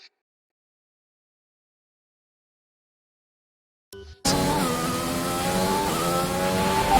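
Race car in the F1 2021 video game, heard after about four seconds of silence, a loud close engine whine climbing in pitch as the car accelerates and shifts.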